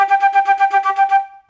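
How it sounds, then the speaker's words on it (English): A flute plays a quick run of about ten evenly tongued repeated notes on one pitch, bright and close, with the tongue held high in the mouth. The notes pulse steadily and alone before a short held tail fades out. "If I were to play a note and play some repeated notes while I'm suspending my tongue high in my air"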